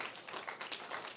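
Audience at a tribute screening for animator Bill Plympton clapping steadily, a dense, soft patter of many hands heard from a distance.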